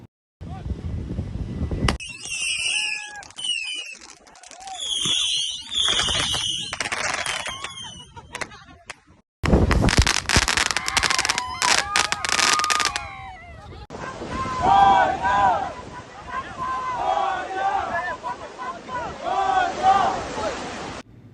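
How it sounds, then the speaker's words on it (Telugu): Firecrackers burst at a Ganesh Chaturthi immersion celebration: a dense, loud run of sharp cracking pops fills the middle stretch, with whistling and voices around it. "ఇక క్రాకర్స్ పేల్చడం స్టార్ట్ చేసాము"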